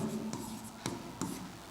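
Chalk or marker writing a math answer on a classroom board, short scratchy strokes in a few quick bursts, close and clear with no talking.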